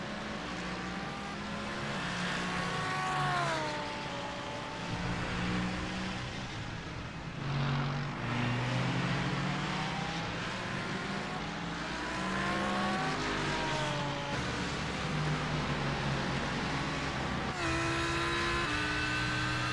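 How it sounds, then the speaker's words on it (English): An Audi GT3 race car engine in a racing video game revs up and down through gear changes for a full lap, with rising and falling tones, steady and close, alone without talk. "Let's jump in with Craig Edwards and take a lap in the Audi around this circuit"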